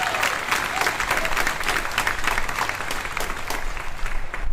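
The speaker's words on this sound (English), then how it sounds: "Let's give her a big round of applause." Sustained applause from a graduation ceremony audience, dense steady clapping throughout with crowd noise, no clear speech.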